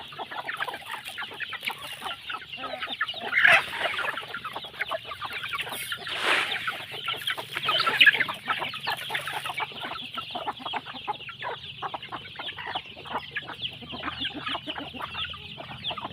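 A large flock of chickens clucks and chatters continuously at close range inside a coop, with occasional louder squawks and bursts standing out from the dense background.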